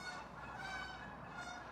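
Geese honk on a disc golf course during a tournament round, a cluster of nasal calls repeating in quick succession at moderate distance with no voices over them.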